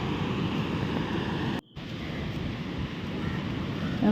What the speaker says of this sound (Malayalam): വെള്ളത്തിൻ്റെ ഒച്ചയൊക്കെ കേൾക്കുന്നുണ്ട് ഷട്ടർ തുറന്നിട്ടിരിക്കുവാണ്